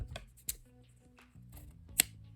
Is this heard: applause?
no